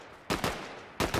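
Gunfire from a Fortnite match: two quick bursts of sharp shots, a pause, then another pair of cracks, fairly close and loud with no talk over them.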